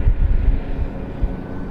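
A Dynam Boeing PT-17 radio-controlled model biplane, 1300mm wingspan, flies with a continuous buzzing engine drone blended with rough wind rumble, steady and fairly loud throughout with no voices.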